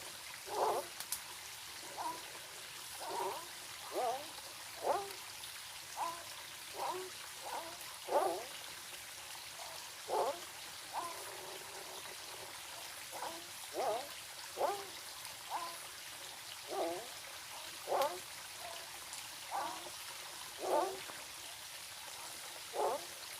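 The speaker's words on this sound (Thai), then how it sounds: "มีแต่เสียงกบเสียงน้ำไหล ฟังมานะครับ" Night in a forest campsite during the cool season: a quiet steady wash of flowing water with soft, regular croaks or calls repeating every second or so throughout.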